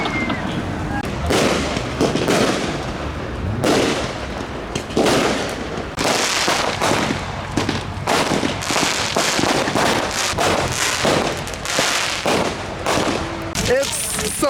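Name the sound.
fireworks exploding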